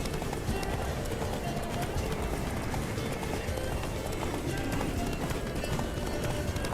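Rapid hoofbeats of a galloping horse in the video game The Witcher 3: Wild Hunt pound steadily throughout, loud and close, with a dense rumbling texture and no pause.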